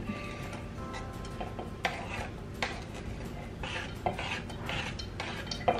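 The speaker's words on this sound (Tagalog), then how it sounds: "Halu-haluin ko lang siya." A utensil stirs chopped carrots and red onion in a pan for spring roll filling, with soft scraping and occasional light clinks against the pan, fairly quiet and steady.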